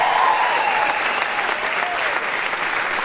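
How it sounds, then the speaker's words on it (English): A school concert audience applauds the brass band with continuous, full clapping from start to finish, a faint whistle or voice rising briefly over it. "let's give the brass band another round of applause for kicking off the concert"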